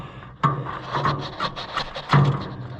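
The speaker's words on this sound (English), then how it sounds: "But I thought I'd scrape it a little bit." Old gasket residue is scraped by hand from the carburetor mount of a John Deere 55 combine. Short, rough rasping strokes come close-up in an uneven rhythm, with two sharper scrapes standing out.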